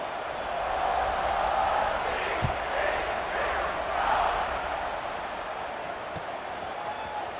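A football stadium crowd roars at a kickoff, a broad sustained cheer that swells and eases over several seconds, with a thud partway through.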